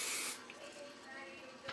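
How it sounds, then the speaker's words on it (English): A short burst of heat protectant spray hits hair before flat-iron curling, a sharp close hiss lasting a fraction of a second, followed by a second quick spritz near the end. "you'll take your heat protectant and you spray some on."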